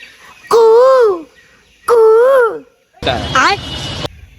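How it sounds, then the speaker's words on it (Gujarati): A peacock on a terrace gives two loud, wavering calls about a second apart, then a third call rises over a burst of broad noise. "ટેરેસ ઉપર મોર છે જો નહીં ભાઈ."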